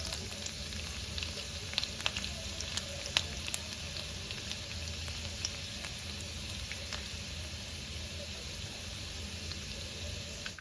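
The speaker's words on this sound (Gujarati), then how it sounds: "ઝીણું સમારેલું લસણ જે લીધું છે એ આપણે આમાં નાખી દઈશું તો લસણ લાલ ના થાય ત્યાં સુધી આપણે એને થવા દઈશું" Finely chopped garlic sizzles in hot tempering oil, a steady faint crackle with scattered sharp pops, with no talking.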